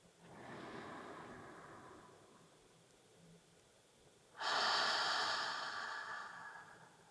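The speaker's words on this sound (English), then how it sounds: "Take a deep breath in and exhale with a soft sigh" Slow, deep breathing during a guided relaxation practice: a soft inhale at the start, a quiet pause, then a louder, breathy exhale like a gentle sigh, close and alone.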